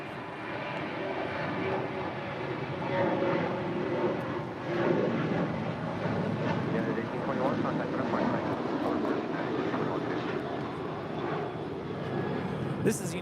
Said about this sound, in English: This is United 1821 departing to Denver, Colorado on a 737-900ER